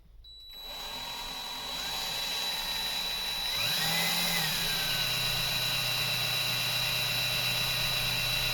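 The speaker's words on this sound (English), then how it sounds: "Drill one hole straight through, fit a screw, and then check the other one." A power drill bores a hole for a screw, its motor whine rising and holding steady for several seconds, loud and close, with a constant background hum and no talking.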